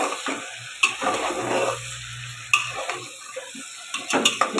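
Chicken curry meat sizzling in hot oil in a pan, stirred with a metal utensil that scrapes and clinks against the pot in several distinct taps, close and fairly loud, with no talking.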